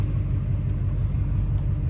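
A steady low truck engine rumble idles continuously throughout, with no voices over it.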